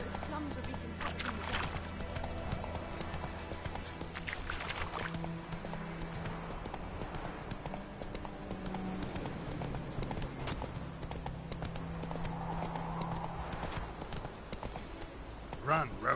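Roach the horse gallops in The Witcher 3 with rapid, rhythmic hoofbeats running throughout, mixed with game ambience and a voice talking over the top.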